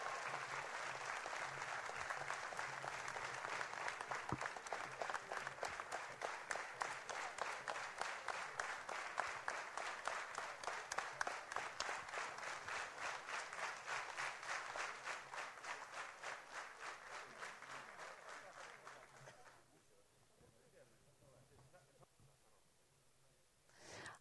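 Sustained applause from an audience at a Polish awards ceremony after first place goes to the Szarotki ensemble, dense steady clapping lasting about twenty seconds before thinning out abruptly near the end.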